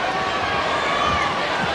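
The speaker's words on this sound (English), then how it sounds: "The crowd very quiet tonight, subdued." Quiet basketball arena crowd at a 1995 NBA Finals game between the Houston Rockets and Orlando Magic, a steady low murmur with faint squeaks from the court beneath it.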